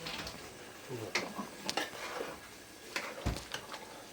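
Food stirred in a pot over a traditional desi clay chula while cooking rotla and a dish seasoned with coriander: scattered scraping and clinking taps of a utensil against the pot, close and moderately loud, irregular strokes with pauses, no talking.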